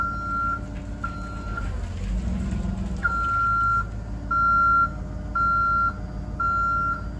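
The reversing alarm of a 2008 Altec LRV55 boom truck beeps in a steady repeating pattern over low engine rumble while the boom and dump operate, with a brief pause partway through.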